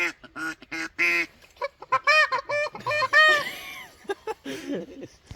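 A duck call imitating a hen duck puffs out a rapid series of short nasal quacks, close and loud, in choppy bursts.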